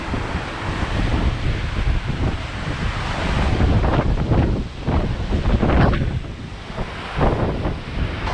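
Wind buffets the microphone over steady surf washing ashore at Zoni Beach on Culebra, Puerto Rico, a continuous loud roar with surging waves and no talking.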